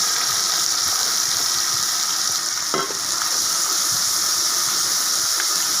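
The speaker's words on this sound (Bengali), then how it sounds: "তেলটা খুব ভালোভাবে গরম হয়ে এলে এখানে আমি যে পেস্টটা তৈরি করে রেখেছিলাম সেটা দিয়ে দেবো।" Spice paste for a boal fish head curry hits hot mustard oil in a wok, giving a loud, steady sizzle and hiss with faint stirring scrapes underneath.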